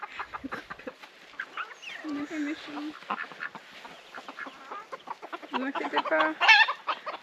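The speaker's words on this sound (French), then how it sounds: "Et maintenant on va faire peur aux poules." Chickens and ducks cluck and quack in short bursts near the listener in Brittany while a person talks calmly over them.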